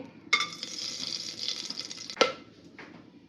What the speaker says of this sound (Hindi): ये चकला फुट रहा सा आवाज़ आ रही